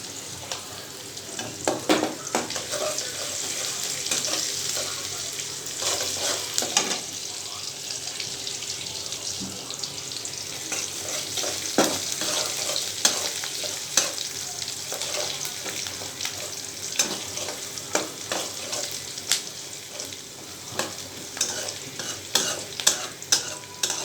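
Vegetables frying and being stirred in a pan before pumpkin goes in, a continuous sizzle with repeated scraping and clattering utensil strokes, close and fairly loud throughout.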